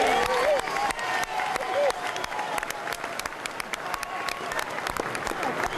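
A large crowd applauds, sustained clapping with scattered cheers and a few voices, moderately loud and fading slightly over time.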